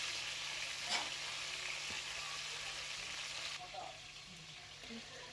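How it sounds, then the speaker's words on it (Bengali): Katla fish pieces frying in white oil in a kadai, giving a steady, fairly faint sizzle throughout with occasional soft knocks as the pieces are turned. "মাছগুলো এবার উল্টে পাল্টে ভেজে নেব"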